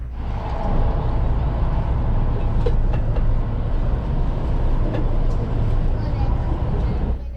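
A Kintetsu Aoniyoshi limited express train rolls into Ikoma Station with a steady low rumble and rail noise, fairly loud and continuous, with a few faint clicks and squeals as it slows.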